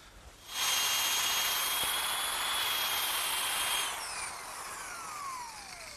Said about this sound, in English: this little drum sander attachment that fits on my drill does a great job at sanding out these edges